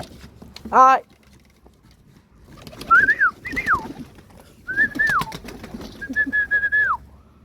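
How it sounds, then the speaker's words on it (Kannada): A pigeon gives several drawn-out, sliding coos spaced a second or two apart, fairly close, against quiet background noise. "ಇಲ್ಲೊಂದು ಕಾಡು ಪಾರಿವಾಳ ಬಂದೈತೆ."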